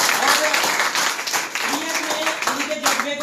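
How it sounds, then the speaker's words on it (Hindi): Applause at a seminar in a newly opened office, a crowd clapping steadily and fairly loudly throughout, with a voice speaking over it. "जोरदार ताली बजवाना चाहूंगा"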